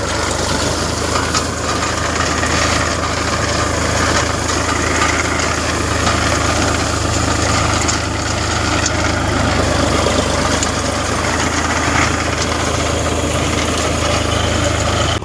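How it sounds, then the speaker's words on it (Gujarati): A steady, droning tractor engine idles and rumbles continuously with low vibration in a farm field, loud and close, with no voices over it. "મારો ભાઈ ટ્રેક્ટર હાકે છે"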